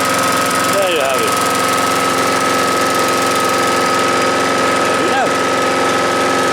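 A 2012 Hayter Harrier 41 electric key start lawnmower engine runs in a loud, steady droning hum throughout, with a couple of brief voice-like sounds over it.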